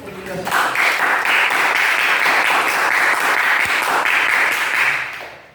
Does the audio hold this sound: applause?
yes